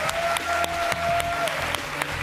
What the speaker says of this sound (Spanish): Un aplauso. Oye, para Il Sogno.